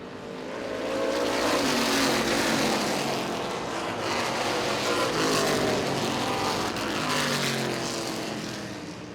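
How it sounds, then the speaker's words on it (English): Race cars lapping a motorsports oval at Baer Field Motorsports Park, a loud continuous engine roar from a lead pack running close together, swelling and easing slightly as they pass without a break. "The 46 of Richardson starting to catch up, though, to Comer, less than half a car length behind as they exit turn number 4."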